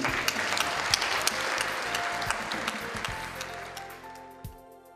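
A crowd applauds steadily for school faculty and staff, a dense patter of clapping that thins out toward the end.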